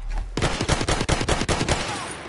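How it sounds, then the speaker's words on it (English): Machine gun fire in Battlefield 1: a loud, rapid burst of about a dozen sharp shots in quick rhythm, opening after a short quiet lead-in and fading into a lingering echo. "Enemy machine gun!"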